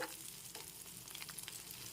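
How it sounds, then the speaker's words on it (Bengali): Fish roe fries in oil in a kadai, a steady close sizzle with small crackles and light scraping as it is stirred and broken into pieces. "মাছের ডিমটা ভেজে নিয়েছি এবার একটু ভেঙে নেবো আমি কড়াইয়ের মধ্যে"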